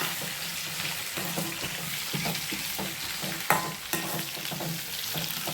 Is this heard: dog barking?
no